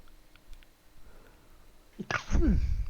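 A faint, quiet stretch, then a sudden loud sneeze burst near the end, close to the microphone.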